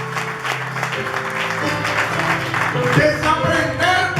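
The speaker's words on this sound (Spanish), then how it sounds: "tributen un aplauso a Dios" A church congregation at a Sunday morning service applauds in a steady, dense wash of clapping, with sung or sustained tones and some voices mixed through it.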